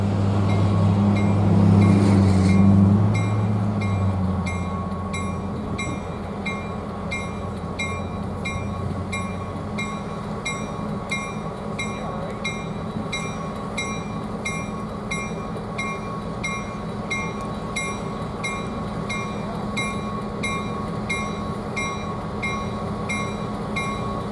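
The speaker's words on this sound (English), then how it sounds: "409 brings the entire consist ahead and shoves it back so that the steam can come out" Locomotive 409 moves a consist of rail cars on a line chasing a US Sugar steam engine, a steady, fairly loud rolling rumble with wheel squeal and rhythmic clacking, continuous and without voices.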